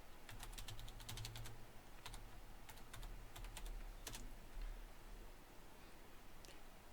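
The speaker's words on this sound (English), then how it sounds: "So we are typing something to you, Caleb." Rapid clicking of a computer keyboard being typed on, bursts of keystrokes with short pauses, steady and close over a low constant background hum.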